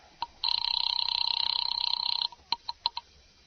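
An old-fashioned telephone bell rings in a radio drama, a long continuous electric trill lasting about two seconds, followed by several short separate rings, loud and close.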